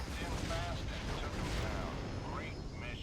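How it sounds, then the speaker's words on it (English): Explosion in the X-Wing Alliance space combat video game, a dense rumbling roar of blast noise with crackling debris that stays loud and continuous throughout, with no clear voices. "that explosion took a good chunk of my shields away"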